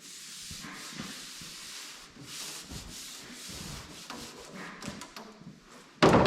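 Electrical tape rubbing and stretching as it is wound onto car wiring on an abandoned burnout car, a steady close scratchy hiss for about six seconds, ending in a sharp loud rip as the tape is pulled.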